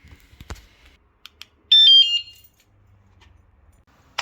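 A discreet remote-controlled anti-theft alarm for a bike or electric scooter gives a sharp, loud electronic chirp lasting under a second, preceded by a few clicks and handling taps.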